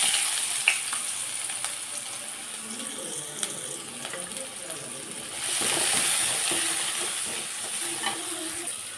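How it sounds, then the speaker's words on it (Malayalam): Sliced onions fry in hot oil in a pan that was just used to fry idli, giving a steady close sizzle with occasional stirring scrapes and a louder surge partway through. "ഇഡ്ഡലി വറുത്തതിന് തന്നെ നമുക്ക് ഈ സവാള വറുക്കാം"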